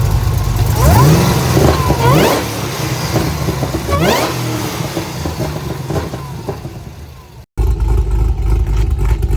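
An HSV with a supercharged LSA V8, bolt-on parts and a custom cam runs loud and close, its steady rumble broken by several quick rising revs, then cutting out briefly before resuming.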